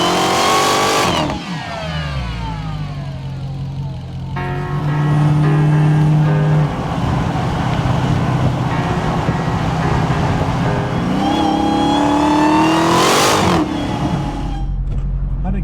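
A 2023 Dodge Challenger Hellcat Redeye Jailbreak Last Call revs hard at close range, a loud supercharged engine rising and falling through several sustained throttle blips with a brief pause between them.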